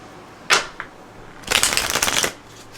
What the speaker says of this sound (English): Shuffle one more time.